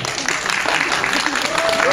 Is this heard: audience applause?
yes